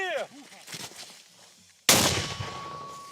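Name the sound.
Ukrainian artillery mortar fire on the Bakhmut front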